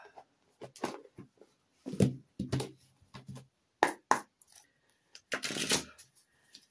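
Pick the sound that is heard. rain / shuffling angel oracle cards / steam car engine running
shuffling angel oracle cards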